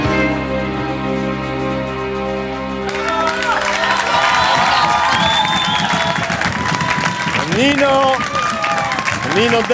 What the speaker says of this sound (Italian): Tanti applausi